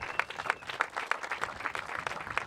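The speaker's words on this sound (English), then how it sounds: "Give him a round of applause." An audience applauds team champions at a 2014 Sport Kart Grandnationals finals podium, a moderately quiet patter of many hands with individual claps standing out in a steady rhythm.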